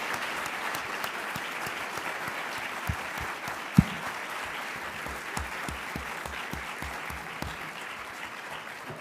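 Steady, sustained audience applause fills the room at an architecture panel wrap-up, a dense wash of many clapping hands with a few sharper individual claps standing out, continuous throughout and without talk.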